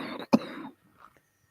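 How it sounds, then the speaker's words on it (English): A single sharp cough cuts through a brief murmur of nearby voices, followed by quiet. "Just coughing."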